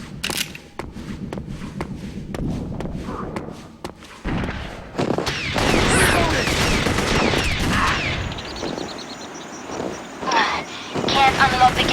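Machine gun fire in the Perfect Dark Zero video game during the River: Extraction level, heard as sustained rattling bursts and thuds that build in the second half, with voices talking over parts of it.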